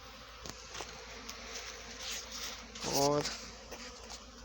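Honeybees hum steadily at an apiary on a warm sunny day, a soft, even swarm drone with individual bees buzzing past nearby while someone says a word.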